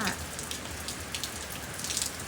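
Heavy rain falling at night in Auckland, a dense, steady hiss of drops hitting surfaces, loud and continuous throughout with no clear gaps.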